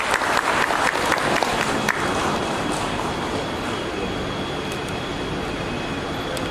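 A crowd applauds loudly at a village committee award ceremony in Ban Thahan Ruea, Thailand, during a provincial governor's visit. The clapping is dense and steady, strongest at first, then settles into a sustained wash of applause.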